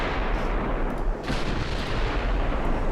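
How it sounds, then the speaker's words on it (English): Battleship gunfire in the naval video game Ultimate Admiral Dreadnoughts, a continuous rumbling barrage of heavy booms with a sharper crack midway, loud and dense, no talk. "She would fire full broadsides with a unified fire control."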